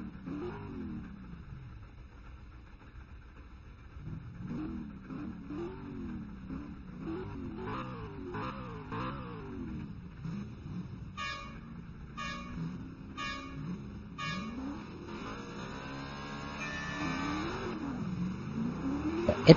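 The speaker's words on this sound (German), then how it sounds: "Etwas bessere Start von Jan Hendrikes" Race cars at the start of the 2012 Race of Champions in Finland, engines rising and falling through rapid gear changes, several revving sweeps overlapping in the middle distance with a steady crowd-like roar beneath.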